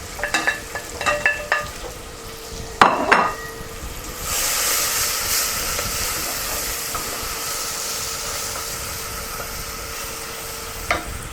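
Onions and chilies go into a hot pan of spices for a simple curry, with a clatter of ingredients hitting the pan followed by a steady, loud, continuous sizzle of frying.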